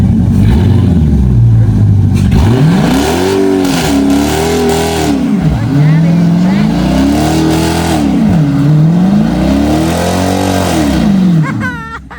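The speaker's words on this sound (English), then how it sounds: "Let me get you doing the burnout." Dodge Challenger R/T doing a burnout, its engine roaring loud and close in repeated rising and falling revs, about four long surges over a continuous heavy rumble that cuts off abruptly at the end.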